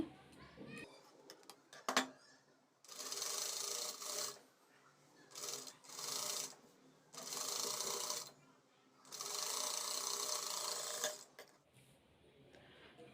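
A sewing machine runs in repeated bursts of steady whirring while stitching the neckline of a blouse with its lining piece, with short gaps and faint handling noises between runs.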